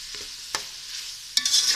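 A spoon stirs a chicken spaghetti mixture in a frying pan, with a few distinct scrapes and clinks over a soft sizzle, close and without talk.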